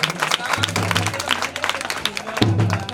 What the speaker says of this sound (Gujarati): એવા અમારા અશ્વિનભાઈ દેવી પૂજક મોરબિયા, એમના માટે પણ જોરદાર તાળીઓ થઈ જાય